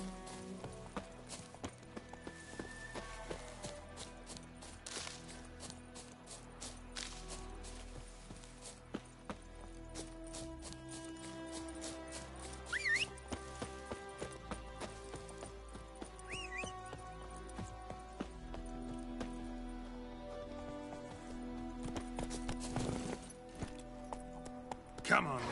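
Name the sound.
horse Roach's hoofbeats, from The Witcher Wild Hunt video game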